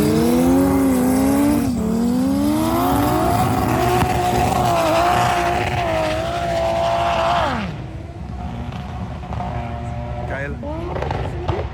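A 1000+ horsepower drag car launches up a ski slope at a drag racing event, its engine screaming loudly and rising in pitch through the gears before fading away into the distance, with commentators talking over it.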